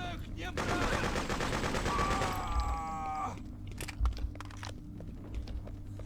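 Rapid automatic gunfire from the video game Freedom Fighters, a dense loud burst of shots lasting about three seconds, followed by scattered single impacts and thuds.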